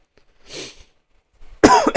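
A man with a cold lets out a soft breathy sound, then a single loud, close cough after a short pause.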